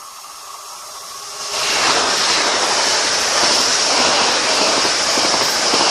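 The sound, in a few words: train passing Ashwell & Morden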